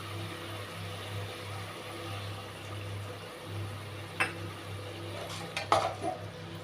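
A spoon stirs through a cooking pan of sugar and a little water, giving a couple of brief clinks and scrapes late on over a steady low hum.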